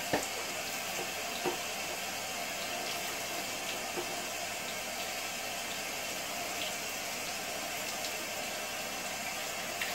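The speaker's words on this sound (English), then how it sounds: "run it under the tap and cool it down" Tap water runs steadily over freshly formed, cooling thermoplastic, a soft continuous wash of flowing water at moderate distance with no talking.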